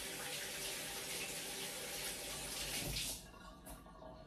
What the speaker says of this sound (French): Et pour ne pas changer les habitudes, lavage des mimines. Hop, je tourne mon robinet.